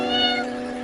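A single short cartoon cat meow, loud and close, in a tonal, rising-then-falling cry that fades within a second.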